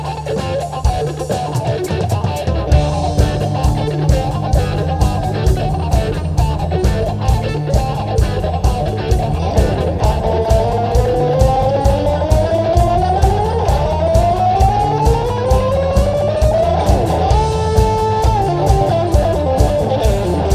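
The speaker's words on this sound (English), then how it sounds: "he pulled the bow across the strings" A fiddle plays fast, sliding runs over a steady, pounding beat, its tone rough and distorted throughout.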